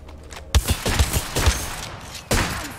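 Apex Legends gunfire erupts abruptly as a loud burst of rapid shots with heavy low thumps, trails off briefly, then resumes with another sharp volley near the end.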